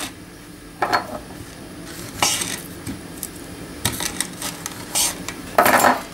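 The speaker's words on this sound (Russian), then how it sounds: "с помощью ложечки всю вот эту вот мякоть я отсюда выковыриваю в кастрюльку" Metal spoon scraping and clinking against a pot while scooping out halved kiwi pulp, in a few separate bursts, close by, with quieter scooping sounds between them and no talking.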